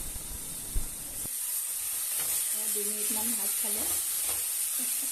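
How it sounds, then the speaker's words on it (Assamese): Potatoes and taro frying in a covered pan give a steady, close hiss. A lid clatters on early and a few faint clinks come through the sizzle. "এতিয়া ঢাকনখন মাৰি 2 মিনিটমানৰ কাৰণে ভাজ খাবলৈ দিম।"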